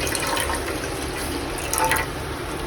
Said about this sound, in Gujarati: તો પાણી નાખવાનું છે.